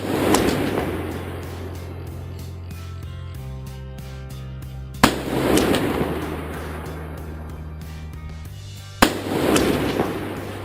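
Three sharp rifle shots at an outdoor shooting range, fired at up to 300 yards, spaced several seconds apart, each with a booming echo that rolls off slowly into the open air.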